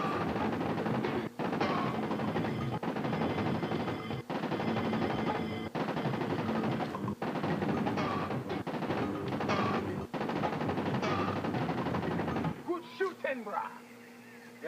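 Sustained rapid gunfire from the Sega 32X CD video game Corpse Killer, loud, dense bursts with brief gaps, ending in a quieter stretch of game effects.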